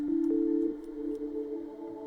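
A synthesized tone played through a shimmer reverb set to about five seconds of decay, a strong sustained note that shifts up and then lingers as a washy, shimmering tail of high overtones.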